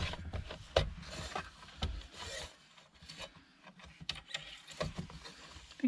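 A blade scores and cuts board for a journal spine in a quiet room, giving close, uneven rasping and scraping strokes that come in short bursts with brief pauses between them.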